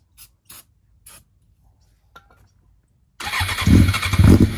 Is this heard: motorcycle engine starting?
yes